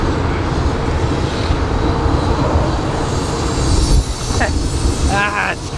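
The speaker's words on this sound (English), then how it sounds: "Oh my gosh, another train! It's going the other way." A train passes close by on a street-level track, with loud steady rumbling and a brief high metallic squeal of wheels rising near the end.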